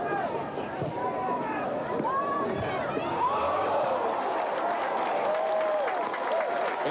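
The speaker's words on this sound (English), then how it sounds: "And applause well earned by the freshman tender" A crowd applauding a college soccer goalkeeper's save, a steady wash of clapping and cheering under a commentator's voice throughout.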